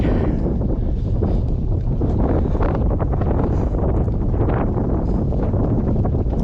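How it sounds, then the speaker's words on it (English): Strong wind blasting across the White Bluffs sand dunes in Washington during a hike, a loud, constant roar and buffeting against the microphone with no break. "We're walking into the wind. It's very cooling."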